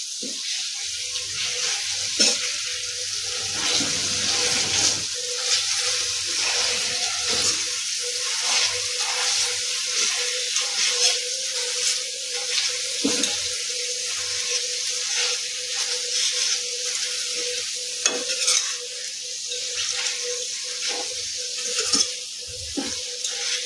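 Chopped onions fry in a pan for a Mithila-style egg curry, giving a steady bright sizzle with occasional stirring scrapes and clinks, close and continuous with no talking.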